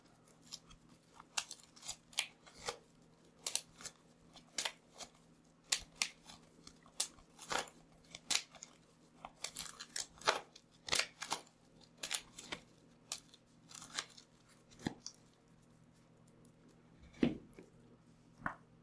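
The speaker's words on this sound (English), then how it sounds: "I think we shuffle here." Magic: The Gathering cards are shuffled during a Pauper tabletop game, giving a long run of soft, crisp riffling and snapping clicks, irregular and close, with no talking.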